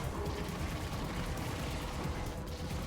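Assault rifle fire in the Kill Knight video game, a dense, continuous rattle of rapid shots with no gaps, loud and steady throughout with no voices.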